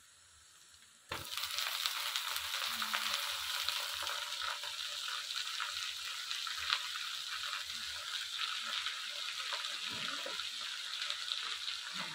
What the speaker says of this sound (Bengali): পেঁয়াজটা লাল হয়ে এসেছে, দিয়ে দেবো এবার সর্ষে শাকটা।